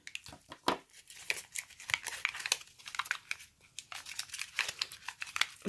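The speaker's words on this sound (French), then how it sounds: "Bien sûr, il me faut mes petits ciseaux." Small scissors snip and crinkle through plastic Lost Kitties toy packaging up close, a busy run of crisp cuts, rustles and tearing with no talking.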